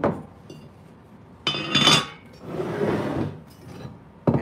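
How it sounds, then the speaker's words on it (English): A Borough Furnace cast iron skillet being handled, with scattered metallic clinks and knocks, a brighter clattering scrape partway through and a sharp clank at the end. "so this is the Burrow Furnace skillet."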